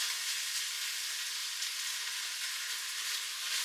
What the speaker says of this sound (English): This lets the tomato paste cook a little bit on the bottom of the Instant Pot and get a little bit brown